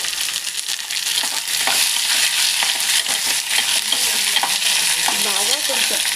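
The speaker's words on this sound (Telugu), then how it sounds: "ఇంట్లో మనం ముందుగా కోసి పెట్టుకున్న ఆనియన్స్ వేస్తాం" Chopped onions fry in a pan for dal with a loud, continuous close sizzle, and a spoon stirring them scrapes and knocks now and then.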